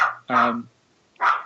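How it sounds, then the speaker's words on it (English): A dog barks close by in two or three sharp, loud bursts separated by brief pauses. "Sorry about my dog barking."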